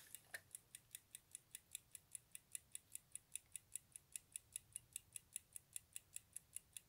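A mechanical timer switch ticks in a fast, perfectly even rhythm of crisp, faint clicks, about four per second, close up in a quiet room with no talk.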